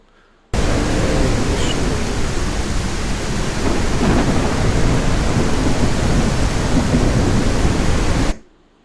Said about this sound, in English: So if we put it on a thunderstorm, because he is wearing a raincoat, you know.